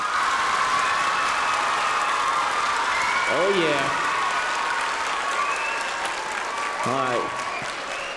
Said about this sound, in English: please give your loudest round of applause of all night for the High School Orchestra